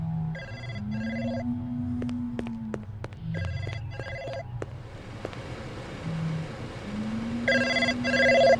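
An electronic telephone rings in bursts of warbling trills from the 1997 Blade Runner video game, repeating several times over a low engine-like hum and a sliding synth tone, with no voices.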